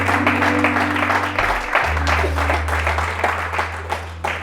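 A church congregation applauding the Lord, steady dense clapping from a large crowd throughout, with sustained music tones underneath and some voices mixed in.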